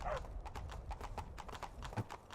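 Horse hooves clip-clop steadily in Skyrim, a video game, a quick even run of close, crisp hoofbeats over a low rumble, with no speech.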